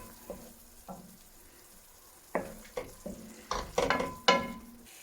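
Potatoes, turmeric and cumin powder being stirred and fried in a rohu fish curry base, giving soft scattered scrapes and clatters with a light sizzle underneath, busier and louder toward the end.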